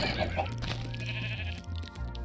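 A Minecraft horse whinnies in a wavering, high-pitched call over a low, steady droning background, lasting about two seconds.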